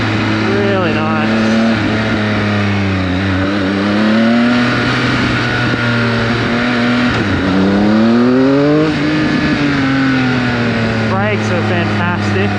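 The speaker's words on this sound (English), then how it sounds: "the pops and crackles, even with this exhaust," A 2019 Triumph Speed Triple RS motorcycle engine revs and rises in pitch, with sharp exhaust pops and crackles scattered through, loud and close, with a voice talking over it.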